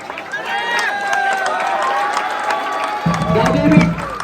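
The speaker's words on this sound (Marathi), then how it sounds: "आपल्या महिला गोविंद पथकासाठी जोरदार टाळ्या" A crowd at a Govinda event claps and cheers for a women's Govinda troupe, with rhythmic clapping and high, wavering cheers over lively babble and a heavier burst of noise in the final second.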